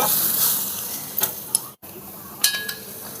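Onion frying in a pan for a rustic Sankranti vegetable dish cooked on a small stove, a soft steady sizzle broken by a few sharp clicks and scrapes of a utensil stirring against the pan.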